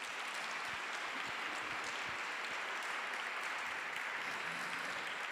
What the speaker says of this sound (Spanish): Fabuloso, un aplauso,